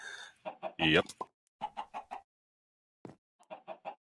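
Chickens in the video game Minecraft cluck in short repeated bursts, loud and close, with one sharper squawk near the start, and someone briefly speaks among them.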